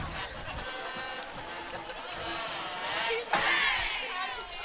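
Excited crowd at a limited-capacity high school football game between the California Trojans and Carmichaels Mighty Mikes, a steady roar of distant cheering and chatter with a louder swell near the end.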